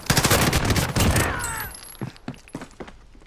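Call of Duty Warzone gunfire: a dense burst of rapid automatic shots for about a second and a half, then a few scattered sharper shots and mechanical clicks fading out, loud and close, with no talking.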